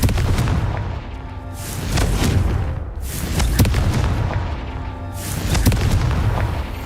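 Confringo explosive spell blasts from the Hogwarts Legacy video game, heavy booming bursts repeating roughly every two to three seconds, loud and close with a rumbling tail between hits.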